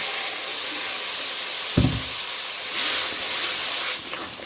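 Water from a ground spice paste poured into a hot pan of spiced mixture while cooking Bengali chicken kosha: a steady sizzling hiss with a brief low thump, swelling louder partway through, with no talking.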